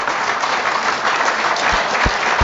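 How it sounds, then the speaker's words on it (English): Applause rises from a rugby league grandstand below, a dense, steady patter of many hands clapping that holds throughout, with a few low thumps near the end. "Noah High getting applause from the grandstand down below us"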